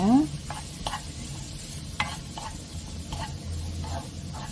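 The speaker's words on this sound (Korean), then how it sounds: "저는 강불에서 한 2분 정도 볶아줬어요." Spicy fish cake fried rice stir-fried over high heat in a pan, a steady low sizzle with intermittent scraping and stirring knocks, close and moderately loud, no talking.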